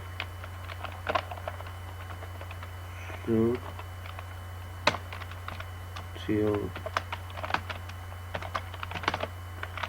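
Code being typed on a computer keyboard: steady quiet key clicks with occasional louder strikes throughout, over a constant low electrical hum, plus two brief tonal bursts.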